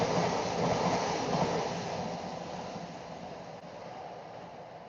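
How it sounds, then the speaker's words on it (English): A Class 59 diesel locomotive, built by General Motors, passing on the railway in the UK: a broad, continuous rumble and rush that fades slowly as it moves away, with no voices over it. "Class 59 locomotives, there is 15 in total built by General Motors between 1985 and 1995"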